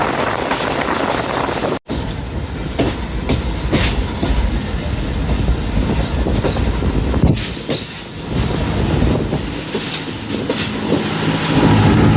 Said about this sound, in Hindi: काफ़ी स्लो स्पीड में एंट्री हुई है राजपूत नगर रेलवे स्टेशन पर